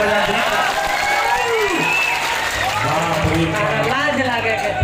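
An audience at a folk dugola music program claps in a broad, continuous patter, with a voice talking over it throughout.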